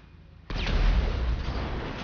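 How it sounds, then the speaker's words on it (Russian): A gas canister blows up inside the video game GTA V Online, a sudden loud blast that opens with a sharp onset and then a broad, sustained rumbling roar with no speech over it. "Сейчас мы баллончик подзорвем хорошенько."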